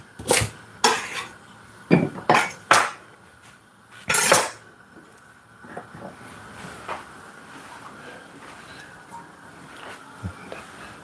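A knife chops ingredients for Jamaican red peas and smoked meat soup into larger pieces, with several sharp, close knocks early on, then a sparser run of soft taps and light clatter.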